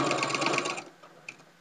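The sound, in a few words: sewing machine back stitching a tag blanket corner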